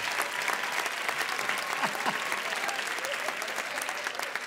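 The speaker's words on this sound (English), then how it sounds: "They were clapping for you, brother." A comedy club audience claps steadily and loudly at a stand-up show, a dense wash of applause holding for several seconds with a few faint voices mixed in.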